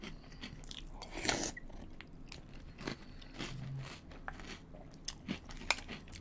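Crunchy breakfast cereal being chewed close up, irregular crisp crunches and bites with one louder crunch early on, quiet room with no talking.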